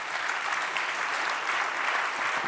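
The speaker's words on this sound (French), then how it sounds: "on peut les applaudir" Steady, even applause from an audience at a conference awards session, a close-packed wash of clapping holding at moderate loudness throughout.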